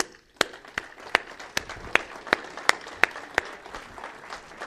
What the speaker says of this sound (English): let's give him the respect and a round of applause that he is so deserved of.